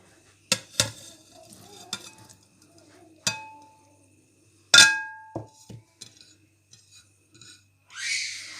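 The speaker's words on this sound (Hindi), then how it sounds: "सो चलिए अब सब चीज़ों को इसमें ऐड करते हैं और मिक्स करते हैं।" Salad ingredients tossed with chaat masala in a bowl, giving a handful of sharp spoon knocks and clinks spaced by quiet gaps, with a softer scraping rustle near the end; no one speaks.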